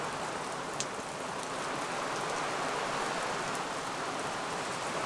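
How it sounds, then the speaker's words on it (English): Steady heavy rain falls on a camp shelter in a constant dense hiss with no breaks or voices. "It's raining now."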